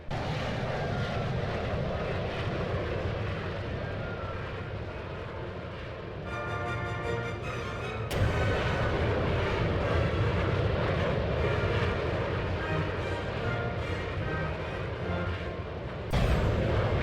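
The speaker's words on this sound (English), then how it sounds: "This is what a normal landing looks like." Steady, loud jet engine roar from an aircraft landing in the VTOL VR flight simulator game continues throughout, with a short electronic cockpit beeping alert in the middle and a sudden rise in rumble near the end.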